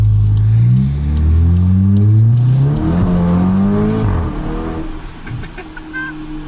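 A VW Golf GTI MK8.5 fitted with a Rev9 exhaust revs loudly and close by. The engine note climbs and falls in several sweeps, then settles into a lower rumble as the revs drop.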